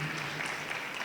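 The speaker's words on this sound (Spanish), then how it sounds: "un aplauso para Mari." Brief, steady applause from a church congregation, a soft even patter of many hands heard from some distance.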